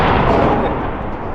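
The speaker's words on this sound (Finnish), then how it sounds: "Nyt oli jo erilainen pamaus." Ammonium nitrate fertilizer set off with dynamite in an outdoor blast test, a single loud, deep booming blast that rolls on and slowly decays, heard alone.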